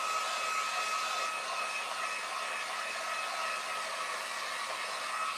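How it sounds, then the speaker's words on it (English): A heat gun drying paint on a ceiling fan decor project blows with a steady, even airflow whoosh and a faint whine, close and continuous, with no talking. "So I have my heat gun, and I'm just going to"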